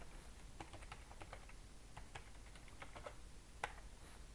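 Someone types on a computer keyboard in a quiet room, an irregular run of light, close key clicks with a slightly harder tap near the end.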